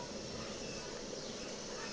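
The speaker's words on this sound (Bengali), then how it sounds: "ঝোলটা ফুটছে" A thin egg, potato and papaya curry simmers in a pot, giving a faint, steady bubbling hiss with no breaks.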